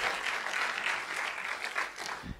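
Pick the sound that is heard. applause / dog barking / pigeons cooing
applause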